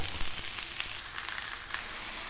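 Soy sauce hitting deep-fried tofu in a hot pan, a steady close hiss of frying with small crackling pops scattered throughout, no voices.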